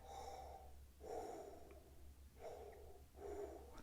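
An oboe player draws deep breaths close to the microphone, four soft airy breaths in a slow, even rhythm, with no instrument sounding.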